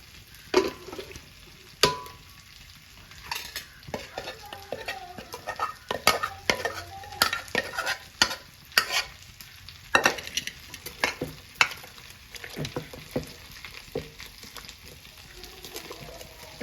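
Tapioca and beef being stirred and fried in a pan, with scraping stir strokes and clattering bursts over a steady low sizzle, close by and with no talk.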